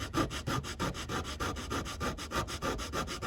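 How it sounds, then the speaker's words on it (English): Small round file rubbed back and forth across a knife handle scale, a steady rhythmic rasping with regular strokes roughly every fifth of a second, close and fairly quiet with no talk. "Just find a spot on the scale and just run your file."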